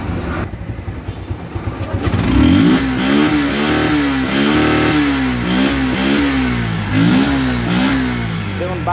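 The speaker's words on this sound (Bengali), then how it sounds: "এখন দেখো বাইকটির সাউন্ড এবং পারফরমেন্স" A Suzuki Gexxer 155cc motorcycle engine idles and then revs up loudly and repeatedly in close, rising-and-falling bursts, with no talking over it.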